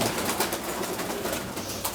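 A champion racing pigeon coos close by in soft, repeated throaty phrases over a steady background murmur.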